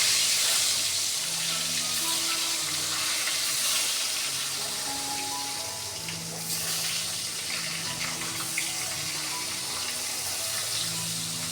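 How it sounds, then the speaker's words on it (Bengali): Fish rubbed with salt and turmeric frying in a pan, a dense, continuous sizzling hiss at moderate loudness with little variation and no talking. "এই যে মাছগুলো নুন হলুদ মাখিয়ে নিয়েছি তো এখন ভাজতে বসিয়েছি"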